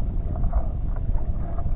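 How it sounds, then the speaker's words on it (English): Steady low wind rumbling and buffeting across open water, close and constant, with no voices. "I don't know if this lake is just known to be windy."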